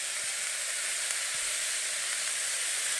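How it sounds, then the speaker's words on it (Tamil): Onions and ginger sautéing in a pan for potato masala, a steady, close, even sizzle and hiss running throughout with no talk. "வெங்காயத்தை நல்லா வதக்கிக்குவேன்"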